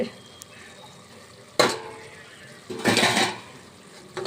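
A metal spoon scrapes and clatters in a pan as chicken is stirred with biryani masala, turmeric, pepper and coriander powder, giving two distinct close scraping strokes over a quiet sizzling background.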